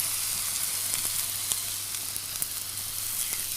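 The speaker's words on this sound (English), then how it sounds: "Press the steak down with your tongs to make sure it's in good contact with the pan." Sirloin steak sizzles in a hot frying pan with a steady, soft crackling hiss and scattered small pops, fairly quiet and close, with no talking.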